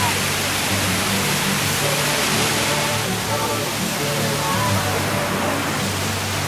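Steady broadband rush of Curug Sikarim waterfall, a continuous wash of falling water filling the scene at constant loudness, with faint low hum underneath and no talk.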